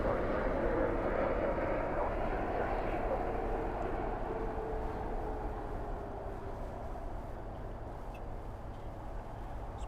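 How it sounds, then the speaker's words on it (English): A Dash 8 freighter lands at night at Dallas Fort Worth airport with spoilers up and thrust reversers deployed, giving a broad steady roar that slowly fades, heard from a distance with no talk. "Spoilers up, reversers out on that queen. It's a Dash 8 freighter."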